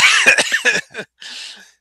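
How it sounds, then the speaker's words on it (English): A burst of several harsh coughs close to the microphone, followed by a short pause and a softer raspy exhale. "Go get me coughing"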